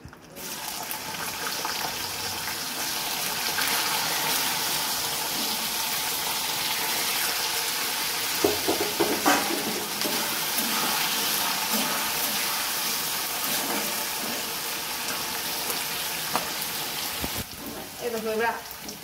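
Potatoes dropped into hot oil with asafoetida in a home kitchen, giving a continuous bright crackling sizzle that runs throughout, with a few clatters and some talking over it.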